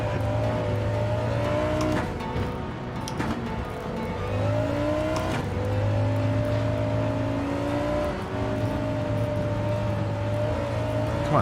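A Honda NSX race car in Gran Turismo 7 screams at high revs, its engine note climbing and dropping through gear changes, loud and continuous for the whole stretch with no talking.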